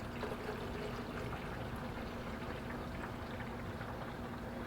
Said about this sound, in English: I'm going to transfer it to this very clean 2 liter beaker